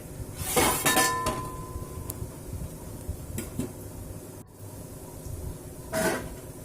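A plate is set down over a bowl of eggplant soaking in water, giving a bright ceramic clink up close, followed by a few lighter clatters and a second clink near the end.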